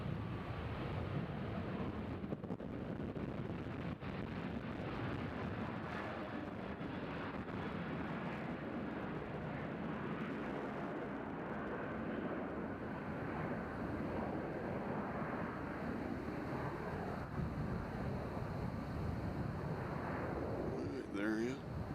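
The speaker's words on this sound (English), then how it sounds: "So this one coming in from Reagan National landing on 2 right." A passenger jet arriving from Reagan National lands on runway 2 Right at Nashville International Airport, a steady broadband engine roar that stays loud and continuous throughout, with wind buffeting on the microphone.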